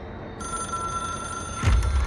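An old-style telephone bell rings in the video game Control, a steady bright ringing tone that swells louder near the end, heard clearly with no talking.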